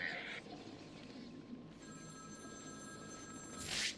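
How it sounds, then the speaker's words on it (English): A telephone rings somewhere in the Batman: Arkham City game world, heard as thin, steady high tones through much of the stretch with a brighter burst near the end, over a dense, rumbling game ambience. "There's a phone ringing somewhere."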